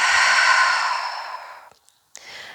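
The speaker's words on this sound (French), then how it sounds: "on inspire, on sent le ventre se gonfler, se remplir et on expire, il se vide" A long, deep exhale during prenatal yoga breathing, a soft airy breath that slowly fades out, followed by brief quiet and the start of a short new breath, close and clear with no talk.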